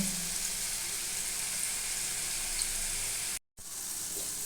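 Potatoes fry in a pan with a constant, close, bright sizzle that runs unbroken, apart from a split-second dropout near the end.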